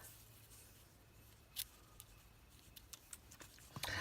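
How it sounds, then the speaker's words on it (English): Scissors snip the ribbon and fiber tails on a handmade gift tag, giving a few faint, sparse clicks and snips scattered over quiet room tone, with a slightly louder cluster of cuts near the end. "I kind of just trim my tails of everything, and I trim them at different lengths"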